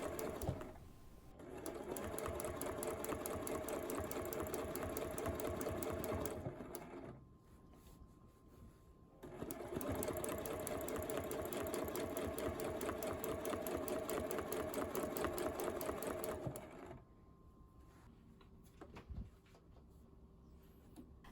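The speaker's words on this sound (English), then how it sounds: "I actually listen to the sound of the machine" A sewing machine running slowly during free motion quilting, its steady rapid needle clatter and motor hum coming in two long bursts with quiet pauses between.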